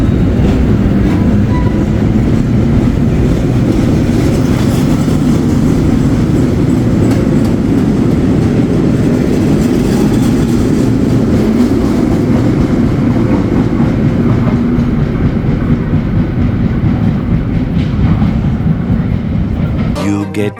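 A Metro-North train rolls along the rails, a loud continuous rumble with rhythmic clickety-clack and a few faint squeals, heard from inside over about twenty seconds.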